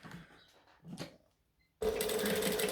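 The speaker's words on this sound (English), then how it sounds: "I'm going to stitch down one side and then back up the other side." Quiet fabric handling comes first, then a sewing machine starts stitching fabric with a sudden, loud, steady mechanical whir that runs to the end.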